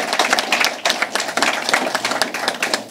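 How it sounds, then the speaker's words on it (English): Audience applause at a state government awards announcement, a smaller group clapping with distinct, uneven individual claps close by, continuous for the full few seconds. "Give yourselves another round of applause."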